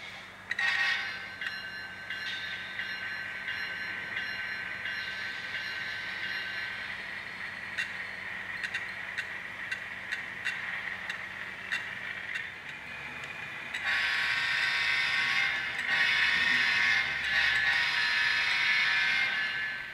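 An N scale ScaleTrains Tier 4 GEVo model diesel locomotive runs with its onboard sound, giving a steady, thin engine drone with faint bell-like tones that grows louder and brighter near the end, with no talk.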